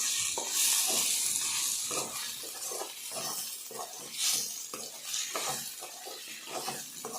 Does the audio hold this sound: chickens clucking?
no